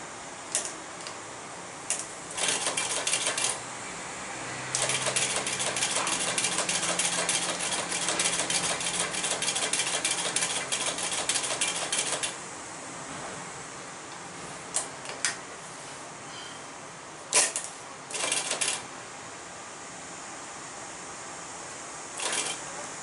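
A Singer 31-15 industrial sewing machine driven by a servo motor runs in short bursts of rapid, even stitching ticks, with a longer steady run in the middle and brief pauses between stitch sessions, close and clear.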